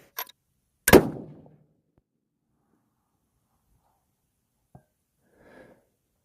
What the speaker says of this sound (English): Did you guys see that hang fire?